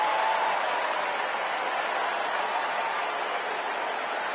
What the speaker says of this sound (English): They are cheering for the billionaire that we just listened to Oprah and Michelle rail against